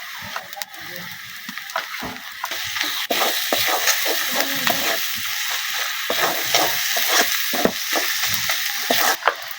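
Ground garlic and ginger paste sizzling and crackling in a hot pan for a hilsa fish bone bharta, with continuous frying hiss broken by stirring scrapes and pops, no voices.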